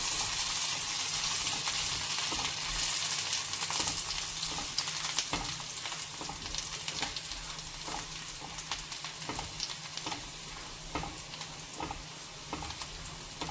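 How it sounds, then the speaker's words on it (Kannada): Spring onion and coriander sizzle in hot tempering oil for prawn fried rice, a steady, dense crackle close by that lasts throughout, with faint ticking stirs and no voices. "ಸ್ವಲ್ಪ ಸ್ಪ್ರಿಂಗ್ ಆನಿಯನ್, ಸ್ವಲ್ಪ ಕೊತ್ತಂಬರಿಯನ್ನು ಒಗ್ಗರಣೆಗೆ ಹಾಕೋಣ."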